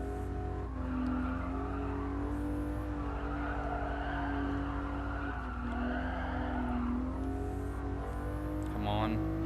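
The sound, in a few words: race car engine revving in video game Gran Turismo Sport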